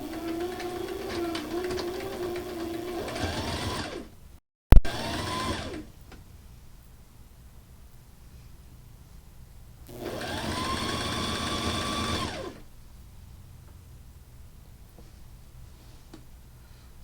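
A sewing machine stitches a nightshirt in two bursts of rapid, whirring needle clatter, one short and one a couple of seconds long, separated by a sharp clunk and a quiet pause.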